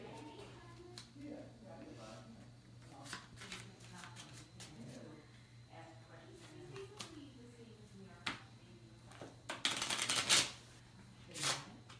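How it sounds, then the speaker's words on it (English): Crisp riffling bursts of a deck of playing cards being shuffled, with a louder flurry near the end, under a steady low hum and faint background talk. "Shuffle the deck."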